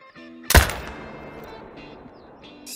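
A single loud, close hunting-rifle gunshot in theHunter: Call of the Wild, cracking sharply and then trailing off into a long rolling echo, with faint game ambience behind it.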